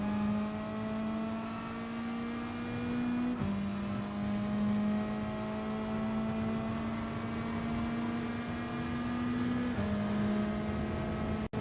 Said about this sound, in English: Coasting into the final corner, and going full send up the hill on the main straight.